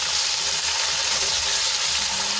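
Okra is stirred into hot oil in a pan on the stove, giving a steady, close sizzle and frying hiss throughout with no talk.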